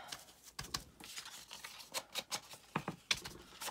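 A sponge dabs ink onto the edge of a piece of scrap paper for a rustic card tag, giving a quick series of soft, close tapping pats at an uneven rhythm with no talk.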